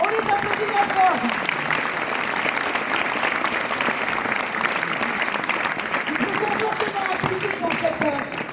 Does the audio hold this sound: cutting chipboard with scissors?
no